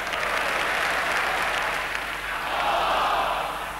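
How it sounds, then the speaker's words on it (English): Football crowd noise at a Leeds v Swindon Town match, a loud sustained roar of spectators appealing for a handball, swelling again toward the end. "Crowd wanted a handball."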